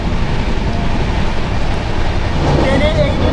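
Rupasi Bangla Express rushing along the track, a loud continuous rumble and clatter of the wheels heard from on board, with talking faintly buried under the din.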